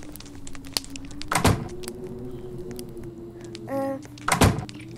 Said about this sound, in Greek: Θα ανοίξει η πόρτα.